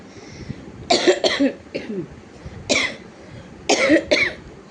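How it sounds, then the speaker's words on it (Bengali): A person coughs in several sharp bursts, two quick pairs and single coughs spaced across a few seconds, close and loud against a quiet room. "প্রথমে কাশি দিয়ে শুরু করলাম"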